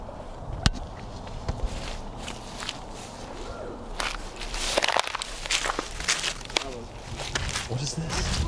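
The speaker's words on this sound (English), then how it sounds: "did you hear footsteps?" Footsteps crunch and shuffle across debris inside an abandoned building, a steady uneven stride at close range, with people talking in hushed voices over them.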